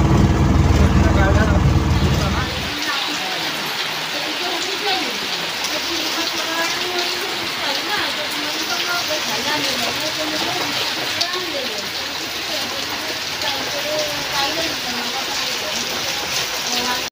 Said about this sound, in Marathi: जाम जोरात पाऊस पडत होता